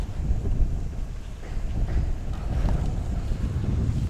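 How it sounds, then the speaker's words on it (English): Steady outdoor wind in a quiet Casablanca satellite town around noon, a constant low rumble buffeting the microphone for the whole stretch with no voices. "And there's a wind."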